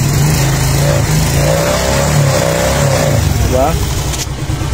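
A Suzuki Smash motorcycle engine idles and revs up, rising in pitch and then settling, close by and loud, with a person talking over it.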